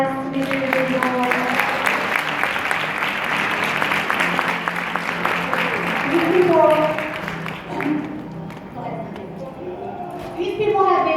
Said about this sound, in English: give a round of applause to these individuals